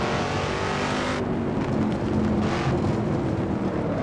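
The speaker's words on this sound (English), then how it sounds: "Oops, a little too high of a rev there." A Shelby Cobra's engine revs hard on a hill climb in the Assetto Corsa racing game. The roar is loud and continuous, with the pitch shifting as the throttle swells and eases.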